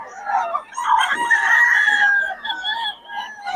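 A rooster crows loudly nearby in one long, wavering call, followed by a few shorter clucking sounds.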